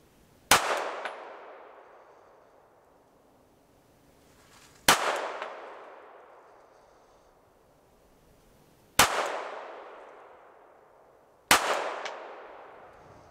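Four pistol shots are fired at a target to test Romeo sights: sharp, widely spaced reports, each ringing out and fading before the next, with no talking.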